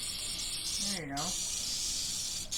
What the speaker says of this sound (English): If you do, I would spritz that powdery area and try it.